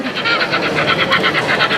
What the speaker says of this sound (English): Already we got a steam train going by